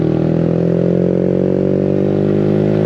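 A Yamaha MT-125 motorcycle engine holds a steady, high-revving drone at speed on a motorway, loud and continuous with no talk over it.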